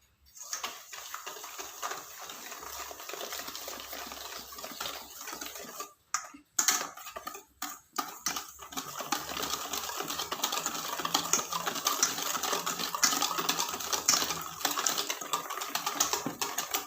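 Rapid rattling whisk strokes against a bowl as Oreo cake batter is beaten with sugar, a steady clicking scrape that runs continuously with a couple of short pauses midway.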